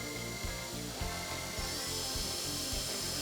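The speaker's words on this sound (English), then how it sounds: "For this I've got a 22mm little drill bit here that's obviously got the hole sawing attachment on it" Power drill spinning a 22mm hole saw through the wall of a 4X4 12V fridge, a steady close grinding whir with a pulsing, chattering rhythm as the cutter bites, continuous and loud with no talk.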